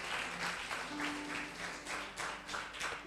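A church congregation claps at a Spanish-language sermon, producing dense, continuous applause with rhythmic surges, fairly close and filling the space without talk.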